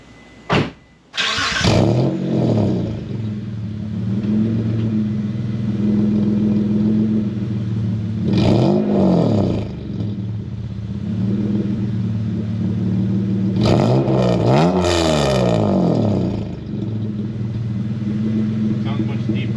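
A Dodge Stealth R/T fitted with a full performance exhaust cranks and fires up, then idles with a deep, loud rumble broken by two sharp revs, with voices talking over it.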